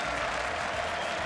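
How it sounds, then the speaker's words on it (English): Crowd cheering at a League of Legends All-Star esports event, a dense steady roar of cheers and applause filling the whole stretch at full volume. "Crowd is still cheering for XPEC in Europe"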